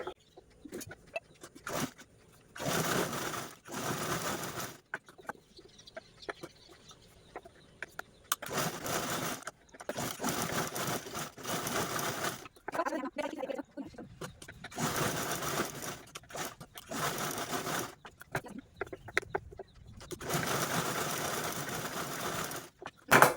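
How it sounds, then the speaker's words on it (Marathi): Sewing machine stitching fabric straps cut from an old gown, running in repeated quick bursts of rapid mechanical chatter separated by short pauses. "चला मी लगेचच स्टिच पण करून घेते"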